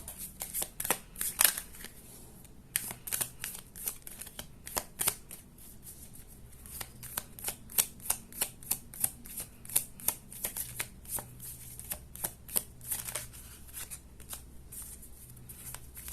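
A deck of tarot cards being shuffled, with repeated crisp riffling bursts and flutters at an uneven rhythm, close and fairly quiet, with no voices.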